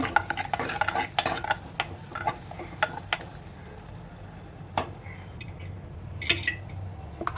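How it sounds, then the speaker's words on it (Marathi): Crushed garlic, onion and curry leaves fry in a hot tempering for a Malvani ladyfish curry, giving a soft steady sizzle with scattered clinks and scrapes of a spoon against the pan, close and without talk. "फोडणीमध्ये ठेचलेला अर्धा लसूण, अर्धा कांदा आणि कढीपत्ता."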